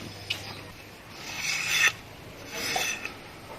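Strips of bamboo for weaving a sticky rice basket are scraped by hand in two rasping strokes, a short stroke followed by a longer one, close and fairly quiet with no talk.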